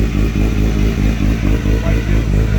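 A Honda CBR1000RRR sportbike engine runs on a dyno, loud and close with a rough pulsing clatter and rhythmic firing throb, and no talking.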